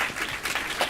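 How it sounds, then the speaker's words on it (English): A full crowd at a DragonCon convention panel breaks into brief, dense applause, loud and close, filled with clapping hands. "give yourselves a round of applause for being here"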